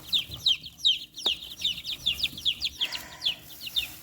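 Chickens roosting up high cluck and chirp in quick repeated bursts, close and fairly loud, with a steady rhythm of short calls and no one speaking.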